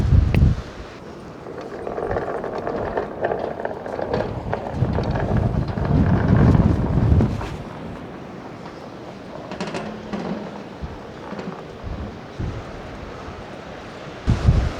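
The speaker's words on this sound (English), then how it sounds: "It's still windy" Strong wind buffets the microphone in a continuous rough rumble that swells and eases, with occasional louder gusts and no talking.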